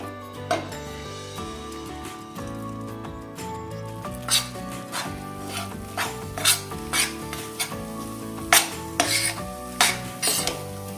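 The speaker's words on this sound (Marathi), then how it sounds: "पुन्हा एकदा हे व्यवस्थित असं मिक्स करून घेऊयात" Water chestnut flour ladoo mixture stirred in a pan, a spoon scraping and clinking against the metal in uneven bursts over a faint sizzle, louder strokes toward the end.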